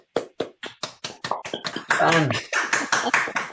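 Online viewers of a storytelling show clap over a video call, starting with separate sharp claps that build into denser, louder clapping with voices cheering over it.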